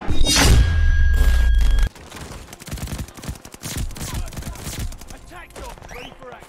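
A Type 11 light machine gun fires in Call of Duty: Vanguard, with rapid bursts of gunfire, loud and close, alongside booming impacts and a steady rattle of shots.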